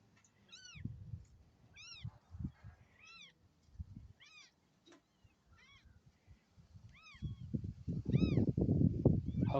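A mother cat meows repeatedly inside a pallet shed, with about seven short rising-and-falling meows spread across the clip. Low thumping and rumbling noise underneath grows louder toward the end.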